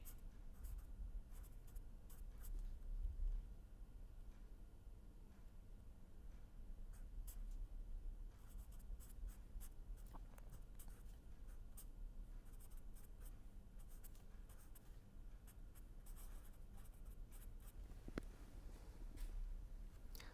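Writing scratches continuously across a board during a lecture, a soft, steady scraping with small taps, heard close and faint for the whole stretch.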